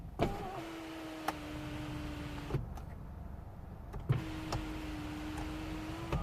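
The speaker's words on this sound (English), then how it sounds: "So I'm going to open the roof." A BMW 320d E91 sunroof motor whirs steadily as the roof opens, two long electric runs broken by a short pause, each starting and stopping with a soft clunk, close and fairly quiet inside the car.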